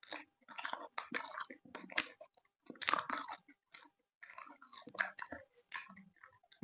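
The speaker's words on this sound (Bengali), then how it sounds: "টক দিয়ে তো খাচ্ছি।" Close, wet crunching and chewing of fuchka (panipuri) dipped in tamarind water, in irregular bursts of bites with short pauses between them.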